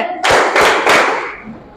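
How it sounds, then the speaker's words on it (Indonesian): A classroom of students claps in a short rhythmic pattern during an ice-breaking activity: three quick, loud, close bursts of clapping that fade into a quieter tail, with no talk over them. "terima kasih tepuk tangan ya"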